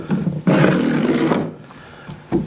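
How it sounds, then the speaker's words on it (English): Pipe clamps sliding across a glued-up wooden cutting board give a loud, close scraping rub that fades out, followed by a short knock at the end. Nobody speaks. "Slide your pipe clamps over, your stops."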